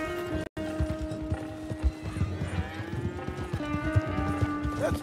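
Hooves clip-clop steadily while a horse gives a whinny, with the snorts and clatter of a Red Dead Redemption 2 game scene and no talking.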